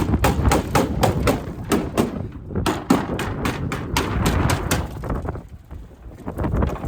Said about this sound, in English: taking my trusty hammer and knocking some of the bigger pieces loose